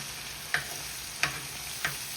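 A chicken and potato mixture sizzling in a pan, with three sharp spatula scrapes and stirs spaced evenly over a steady background fry.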